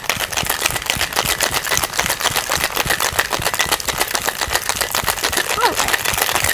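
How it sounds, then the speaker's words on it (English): Ice rattles hard and fast inside a cocktail shaker, a loud, continuous rhythmic clatter of rapid shakes. "Now you actually want to add your ice and go ahead and shake it cold."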